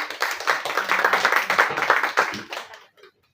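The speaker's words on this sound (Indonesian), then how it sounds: "Kita tepuk tangan ya teman-teman." A crowd of listeners claps together in quick, uneven rhythm for nearly three seconds before the applause fades out into quiet.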